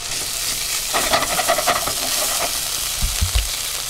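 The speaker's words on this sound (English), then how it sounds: "kind of toast this until it smells just as good as the other stuff" Vegan Thai green curry paste toasting in a hot pan, a steady close sizzle and frying hiss with stirring scrapes, ending in a few low knocks of the utensil against the pan.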